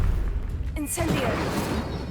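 A fire spell, Incendio, cast in the Hogwarts Legacy game on PlayStation: a sharp whooshing burst near the start of a rumbling flare, over a steady low game backdrop with a voice speaking.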